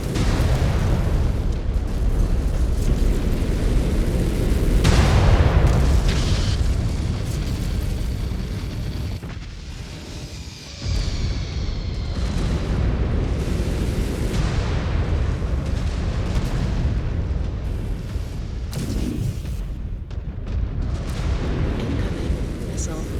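Incoming missile explosions in the mech combat game MechWarrior 5: Clans, a loud, sustained barrage of booms and blasts rolling over each other through most of the stretch with one brief lull, under occasional talk.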